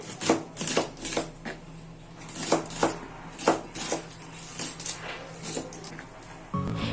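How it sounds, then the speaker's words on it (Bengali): A knife chops spring onion leaves on a cutting board in a home kitchen, making a steady series of about a dozen crisp, close taps at a brisk, slightly uneven rhythm. "প্রথমে পেঁয়াজ পাতা কেটে নিচ্ছি"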